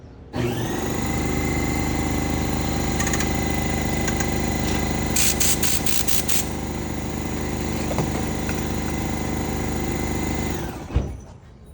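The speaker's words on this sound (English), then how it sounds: "Let's try the air compressor." An air compressor powered by an EcoFlow Delta Pro portable power station runs with a steady, loud motor drone and buzzing hum for about eleven seconds, then shuts off abruptly, with no talking.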